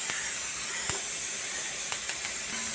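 Spices lightly frying in a pan for kebab give a steady, bright sizzle and hiss, close and continuous, with a few faint clicks over the constant crackle.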